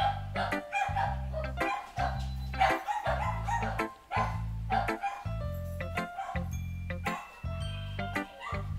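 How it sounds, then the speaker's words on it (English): Dogs bark indoors in a home, loud, close and repeated in quick bursts of yips and woofs, with a faint jingle at times. "now you can hear my dogs bark"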